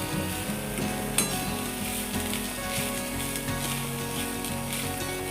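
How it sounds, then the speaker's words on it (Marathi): Grated coconut being roasted in a pan on a low flame for modak filling, a soft continuous sizzle with occasional stirring scrapes and one sharper knock, close and even. "चांगलं बारीक गॅसवर खोबरं चांगलं भाजून घ्यायचं आहे."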